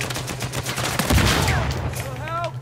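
Rapid gunfire bursts from a Uncharted 4 online multiplayer Team Deathmatch match on the Village map, steady crackling shots over a constant game-music drone, with brief voice sounds near the end.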